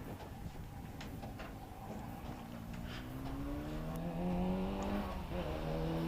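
A racing car at Prescott Hillclimb approaches, its engine note swelling and stepping through a downshift, growing louder as it nears with a steady harmonic drone.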